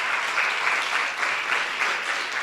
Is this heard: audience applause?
yes